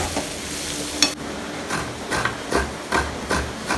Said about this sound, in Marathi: आता ती चुरलेली शेवग्याची पानं त्यात टाकू व्यवस्थित चांगल्या प्रकारे आता शिजवून घेतो